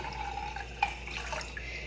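Water trickles into a kitchen pot with soft splashes and a few drips, faint and brief, close by and alone.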